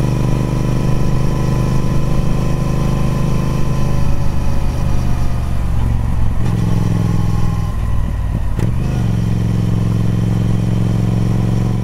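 Triumph Speed Twin 1200 motorcycle riding along a creek road, its engine a loud, continuous droning rumble heard up close, with the pitch shifting as it eases off and picks up again through gear changes.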